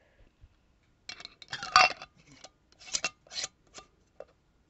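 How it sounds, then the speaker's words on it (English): A lidded glass jar of homemade vanilla extract is shaken in a home kitchen, giving several short bursts of sloshing, rattling clinks separated by brief pauses, close and moderately loud. "I shake it up."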